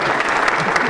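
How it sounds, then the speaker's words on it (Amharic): A stand-up comedy audience in Addis Ababa claps loudly and densely for a brief moment, full crowd applause with a voice faintly under it. "ለቻይኖች ታጨብጭቡላቸው"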